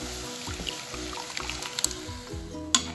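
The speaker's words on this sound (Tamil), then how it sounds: "புளி தண்ணி நல்லா கொதிக்குது." Tamarind water bubbles in a pot for fish bone curry, soft close plops and liquid gurgles popping irregularly at low volume, with a brief sharper clink near the end.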